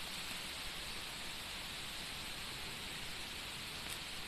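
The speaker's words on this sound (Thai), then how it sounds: "ฝนตกด้วยทุกคนแต่ว่าถ้าอยู่ในป่าก็ไม่ไม่เปียกนะคะ" Light rain falls over a German forest during mushroom picking, a faint, even hiss spread through the woods without any distinct drops standing out and no voices.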